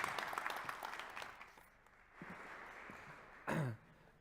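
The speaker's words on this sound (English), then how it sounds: "please give a warm round of applause to Mr." Warm applause from an event audience greeting Dr. Csaba Toth, director of the Republicon Institute, fills the first second and a half, then fades into quiet room noise with a throat clearing and a brief sigh-like sound near the end.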